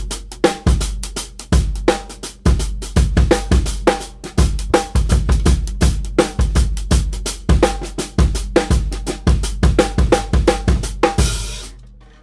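Half-swung drum groove, played back from a RhythmBot practice app: steady repeating kit pattern with punchy kicks, snare hits and ticking cymbals, loud and clear for about twelve seconds with no talking.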